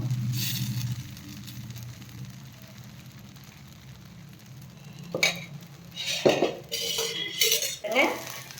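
A ragi dosa is flipped on a hot pan with a spatula. A quiet, faintly sizzling stretch gives way to several sharp metallic scrapes and clinks close by in the second half.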